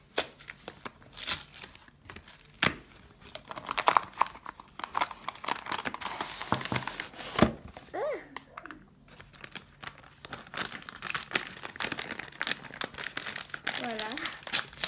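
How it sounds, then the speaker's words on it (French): A package of cornstarch torn and opened by hand, with steady close crinkling and rustling of paper or plastic packaging, while a person talks over it. "il va falloir prendre la maïzena qui est juste ici. On va venir l'ouvrir."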